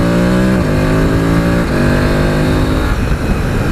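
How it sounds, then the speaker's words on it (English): A BMW F850GS Adventure motorcycle accelerates hard in second gear, its engine note climbing steadily in pitch, dipping briefly at two shifts in revs, loud and close with wind noise throughout. "the BMW engine smoothness, power and acceleration, nothing behind me. I'm in second gear"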